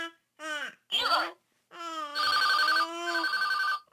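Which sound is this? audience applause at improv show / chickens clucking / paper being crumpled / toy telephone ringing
toy telephone ringing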